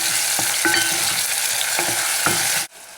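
Tomatoes frying in hot oil for shiro, a loud continuous close sizzle with light stirring knocks in a pan, cutting off abruptly near the end.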